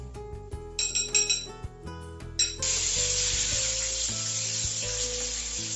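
Apple jalebi, batter-coated apple slices, goes into hot oil: a few sharp clinks are followed by a loud, steady frying sizzle that holds to the end.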